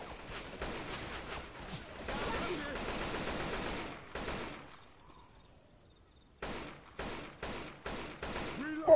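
Bursts of rapid gunfire crackle through a Left 4 Dead 2 game soundscape, with a brief lull midway before sharp single shots return, loud and close.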